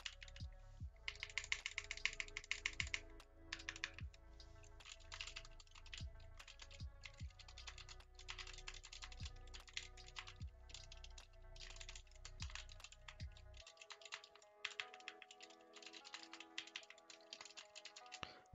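Rapid, clicky SK61 mechanical keyboard typing up close, bursts of keystrokes with brief pauses, ending in a quieter patch of lighter taps.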